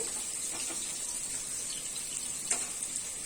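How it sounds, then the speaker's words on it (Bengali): Two tablespoons of onion frying in oil in a pan for pilau give a steady, faint, hissing sizzle with a few soft crackles and one brief sharper pop. "পেঁয়াজটা ভেজে নিচ্ছি।"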